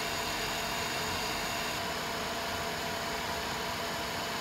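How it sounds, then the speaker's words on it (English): The motors of a Kopis quadcopter FPV drone run in for break-in, giving a loud, steady whirring hiss that stays even and unbroken from start to finish, with no speech. "break in motors, kids. Run it that way for 30-40 seconds. Take it up another RPM"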